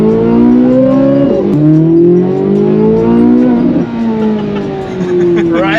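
A Corvette Z06 engine revs hard, loud and close, its pitch climbing in repeated sweeps toward an 8,600 RPM redline, with brief dips between gear pulls and no talking.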